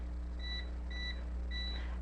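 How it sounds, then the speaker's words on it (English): A kitchen timer beeps three times in short double-tone pulses, evenly spaced and fairly clear over a steady low hum of background noise. "I'm going to set the timer for those."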